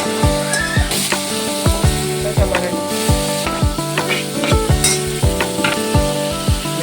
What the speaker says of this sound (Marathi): म्हणून कांदा फ्राय करते